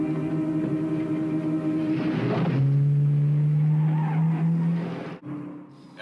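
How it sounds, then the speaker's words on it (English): A car chase with skidding tires: a revving engine, then a long loud tire squeal held for a couple of seconds before cutting off abruptly, close and alone, with no voices. "run outside for a car chase"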